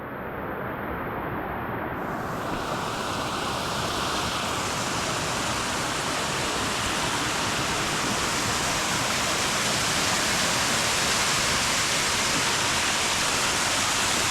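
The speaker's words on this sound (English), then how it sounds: "You can almost touch the waterfall." A powerful waterfall on the Paparoa Great Walk roars as a dense, unbroken rush of falling water. It is loud and very close, staying steady throughout with no voices.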